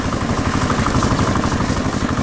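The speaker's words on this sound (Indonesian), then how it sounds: "Lihatlah, traktor merah sedang bekerja keras di tengah ladang kapas yang hijau dan lebat." A red tractor engine working in a cotton field, a steady close mid-pitched drone with a fast regular pulse, continuous and loud throughout with no talk.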